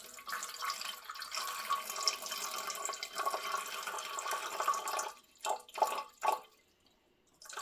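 Water runs from a tap into a measuring container for pizza dough, a steady trickling stream that stops and then gives a few short bursts of splashing and dripping, close and fairly quiet.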